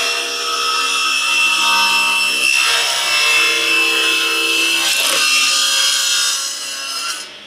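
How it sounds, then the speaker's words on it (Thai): A saw cuts across the end of a raw wooden board, a close, continuous rasping hum with steady tonal whine, easing briefly twice as the blade slides through, then tapering off at the end. "เดี๋ยวผมก็จะลองตัดนะครับสมมุติเราตัดหัวไม้กันดูก่อนครับ"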